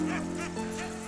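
Sled dogs on a snowy Finnish lakeland trail bark and yip in short excited bursts, close and fairly loud over a steady background hum.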